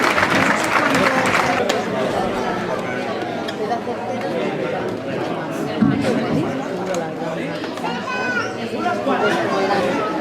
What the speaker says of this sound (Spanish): Paula, un fuerte aplauso para ti también